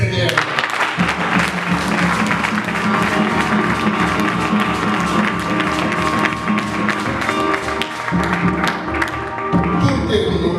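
A church congregation bursts into sustained applause and cheering at a French-language service, loud and dense throughout, with scattered voices mixed into the clapping.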